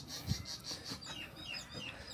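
A lone chick on a rural farm gives a series of soft repeated peeping calls, fairly close and faint, with light outdoor background.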